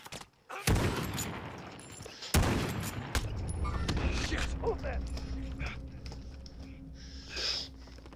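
Video game gunfire, sharp sudden shots near the start followed by a rattling burst, loud and close, mixed with breathing and a voice talking.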